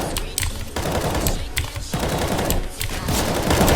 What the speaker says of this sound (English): do burst fires with the M4 at that range